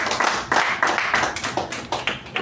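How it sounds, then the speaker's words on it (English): A small Toastmasters meeting audience claps for two Toastmasters. The clapping is sparse and uneven, with distinct individual hand claps close by rather than a full roar. "let's give Toastmaster Sai Snehal and Toastmaster Chetan a huge round of applause"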